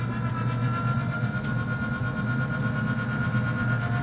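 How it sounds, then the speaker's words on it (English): A used Pit Boss 850 pellet grill's auger turns with a steady, continuous low mechanical hum and a faint whir, holding an even level from start to finish with no talking. "The auger's turning."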